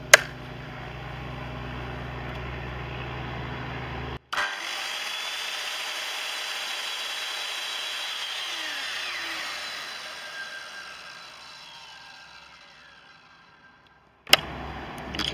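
Two circular saws, a Bosch GKS190 and an Evolution R185CCSL, run unloaded one after the other, each a loud steady whine that starts abruptly, holds, then winds down as the motor spins to a stop.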